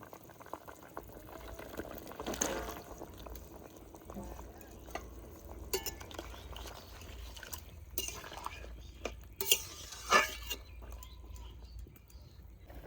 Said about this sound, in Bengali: তরকারিতে জাল উঠে গেছে